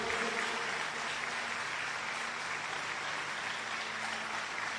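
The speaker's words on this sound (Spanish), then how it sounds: "Le damos un fuerte aplauso al Señor." Applause fills a Spanish-language church service as the congregation claps steadily for about five seconds, a dense, even wash of hands with no one speaking.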